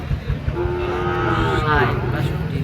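A Frisian-type cow or calf gives a long, loud moo at a village cattle market, a drawn-out low call over crowd murmur and a dull background rumble.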